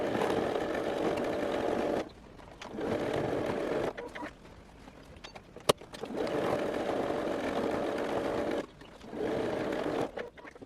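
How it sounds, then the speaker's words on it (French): A sewing machine stitches the side seams of a tote bag in close, steady whirring bursts that run a few seconds each, separated by short pauses. A single sharp click falls midway, and no one talks. "Puis on va coudre 1 cm ici et 1 cm là."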